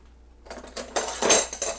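Cutlery clinks and rattles as a spoon is fished out while making spinach lasagna, a few quick metallic jangles rising from silence and growing louder over under two seconds.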